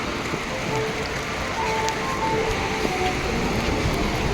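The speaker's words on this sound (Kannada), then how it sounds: "ಜೋರ ಮಳೆ ಬಂತು" Heavy rain falls on a fishing beach in a steady, broadband wash of close drops, continuous and even from start to finish with no voices over it.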